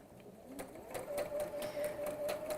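A sewing machine stitching a quilt block, its fast rhythmic needle clatter and motor whine running steadily and close, growing a little louder partway through.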